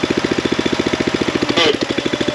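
A Jinma 254 tractor engine idles roughly on a fifty-fifty blend of waste motor oil and diesel, a loud, close, steady thumping beat with a brief rise in the middle.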